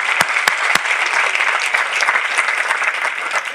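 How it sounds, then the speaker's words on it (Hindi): Church congregation clapping for a sister, a dense, steady round of applause from a crowd, with a few sharp louder claps near the start. "आइए इस बहन के लिए ताली बजाएं।"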